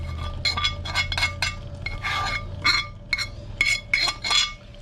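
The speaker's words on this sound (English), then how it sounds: "I want to grab that spoon again. Try to get, I don't want to scratch the pan too bad." A metal spoon scoops spices around a pan of pasta sauce, producing a series of bright clinks and scrapes in irregular bursts over a steady low hum, close and fairly clear.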